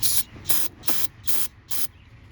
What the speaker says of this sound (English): spray that down